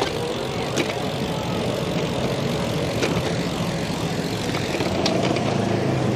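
A propeller airplane drones steadily overhead near an airfield, a continuous broad engine roar holding at a constant level throughout with no talk.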